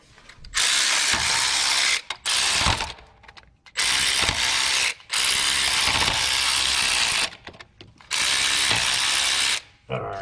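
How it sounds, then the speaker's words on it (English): Ratchet wrench clicking rapidly in several long bursts while 13 mm water pump bolts are broken loose on a 1988 Ford Ranger 2.9L, loud and close, with brief pauses and faint voice between bursts. "So the belts will hold this while we break these 4 bolts free, which are gonna be 13 millimeter."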